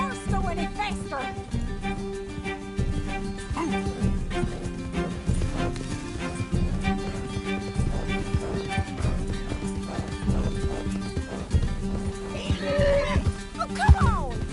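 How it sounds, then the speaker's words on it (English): Horse hooves pound at a gallop in Red Dead Redemption 2, with whinnies and neighs rising over a busy, continuous game soundtrack of music and effects, and a voice speaking now and then. "Can't this horse go any faster?"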